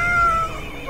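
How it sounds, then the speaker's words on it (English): A cartoon cat gives a single drawn-out meow, a loud, close tonal cry that falls away within a second. "Broadcast the hypnotic cat video."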